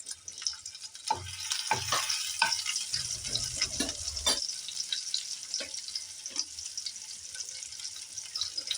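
Chopped garlic drops into hot mustard oil and fries with a steady, close sizzle and crackle, with a few scattered clinks and soft thuds from stirring.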